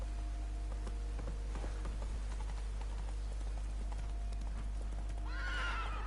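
Horse hooves clip-clop in The Witcher 3, a regular series of close, crisp hoof strikes over a steady low hum, ending with a loud neigh.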